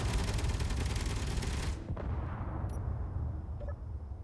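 A dense, loud barrage of base turrets firing at incoming warheads in Space Engineers, continuous rapid fire that cuts off abruptly, leaving a low rumbling aftermath with faint clicks.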